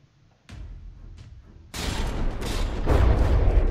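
Rapid bursts of gunfire and booming explosions from the video game From the Depths build in intensity, dense and loud, with a quieter stretch of shots before the barrage thickens.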